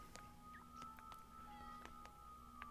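A pet cat meows several times in short, faint cries against quiet background hum and game music, wanting to be let outside.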